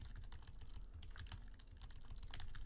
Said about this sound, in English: My typing is not good.